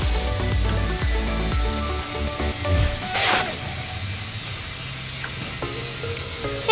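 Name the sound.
jack being placed and jacking up the mini dwarf car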